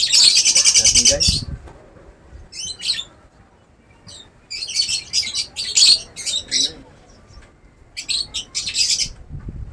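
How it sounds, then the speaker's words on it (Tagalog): Bursts of high, rapid chirping from young nestling birds, repeating in clusters with quiet gaps between, fairly close and loud. "Kung may narinig nyo guys na mayroong humuhuni na maliliit, yun yung mga inakay natin"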